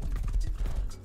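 Horse hooves in the survival video game Rust clop in a quick, steady rhythm, close and fairly loud.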